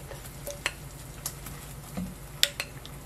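Spicy Spam egg roll frying in an oiled pan on the stove, with a soft steady sizzle under scattered light clinks and scrapes of a utensil against the pan as the egg is rolled.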